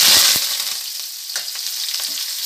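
Curry leaves and thin-sliced onions drop into hot oil with mustard seeds, a loud burst of sizzle that settles into a steady fry with a few light stirring scrapes.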